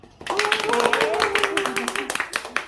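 Brief clapping of thanks for a teacher at a disability awareness campaign event, crisp hand claps of a small group over a voice speaking on top.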